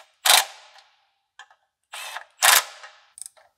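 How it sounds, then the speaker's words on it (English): A ratchet wrench clicks in quick bursts while bolting an oil drain plug back into a Japanese tuner car's engine, close and loud with short pauses between strokes. "We're gonna go ahead and bolt the drain back in."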